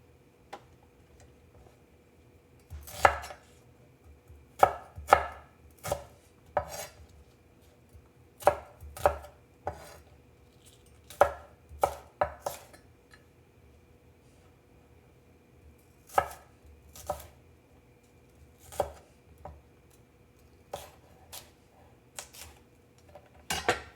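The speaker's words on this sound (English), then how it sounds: "I'm gonna finish julienning these shallots." A knife chopping shallots into julienne strips on a cutting board, heard as sharp, close taps in short irregular bursts with quiet pauses between them.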